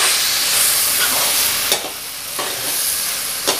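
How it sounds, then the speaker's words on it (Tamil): Avarakkai (broad bean) stir-fry being stirred in a pan over a steady, loud sizzle and steamy hiss, with a few sharp scrapes of the spatula spaced apart, close and without speech. "நான் இடையில ஒரு வாட்டி மிக்ஸ் பண்ணிக்கிடலாம்."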